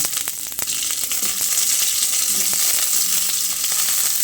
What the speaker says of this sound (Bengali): আলুগুলো দিয়ে কিছুক্ষণ ভেজে নিতে হবে।